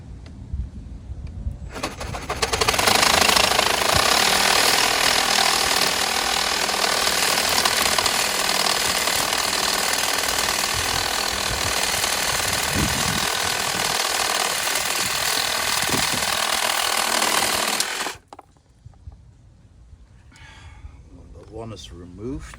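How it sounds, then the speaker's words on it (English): A small hand saw cuts through swivel seat pins inside a Sprinter van, a loud, steady rasping that runs for about fifteen seconds before stopping, with faint activity before and after. "So I got my little saw, and well, let's get rid of these pins."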